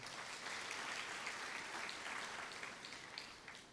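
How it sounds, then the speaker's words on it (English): An audience of new students at an orientation opening claps together in steady, moderately loud applause lasting a few seconds before fading slightly. "Can I see if we are together by a clap of hands?"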